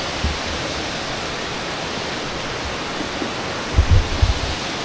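A waterfall tucked away in a secret spot in Bohol rushes in a steady, broad hiss, with a few low thumps near the end.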